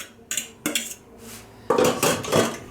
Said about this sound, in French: on va les écraser à la fourchette